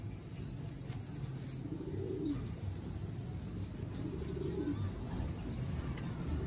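A golden breeder female pigeon gives two soft, rolling coos a couple of seconds apart, close by, over a constant low background hum.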